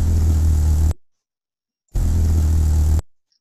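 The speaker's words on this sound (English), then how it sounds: "that's the sound of a Costas hummingbird hovering next to a microphone" Two bursts of a deep, steady buzzing hum from a Costa's hummingbird hovering beside the microphone, about a second each with a pause between, loud and close like wings beating right beside the listener.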